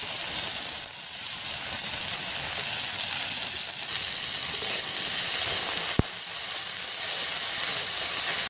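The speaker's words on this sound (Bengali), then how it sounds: "আলুগুলোকে হালকা করে ভেজে নেব, দিয়ে কেটে রাখা পেঁয়াজ পাতাগুলো তাতে দিয়ে দেবো" Potatoes and chopped spring onion greens frying in a pan give a loud, constant close sizzle and hiss with a single sharp click partway through, no voices.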